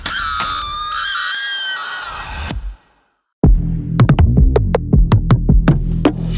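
A woman lets out a long, high, piercing scream of horror, loud and close, then breaks off into a short silence before heavy low thuds and sharp dramatic hits follow.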